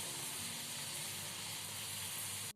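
Potato fries for peri peri finger chips frying in hot oil over a medium flame, a steady loud hiss and bubbling sizzle that holds evenly and stops abruptly at the end.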